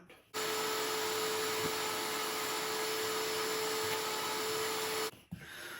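A vacuum cleaner drawing loose fibers off the edge of a Minky quilt runs as a steady, close, loud whine with a constant tone for about five seconds, then stops abruptly.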